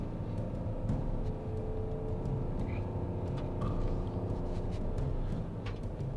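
Ram 1500 pickup towing a trailer up a long climb: a steady, loud low engine drone and road rumble heard from inside the cab, holding constant throughout with faint ticks and clicks on top, no talking.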